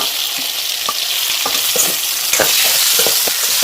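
Tomato, green chili and turmeric frying in a hot pan, a loud bright sizzle running throughout with scattered spatula scrapes and taps, no talking.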